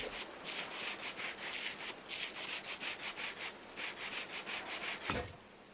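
Rhythmic rubbing strokes of sandpaper in the Minecraft modpack Valhelsia Enhanced Vanilla repeat in quick, even bursts, close and fairly loud, stopping briefly twice before a final thud.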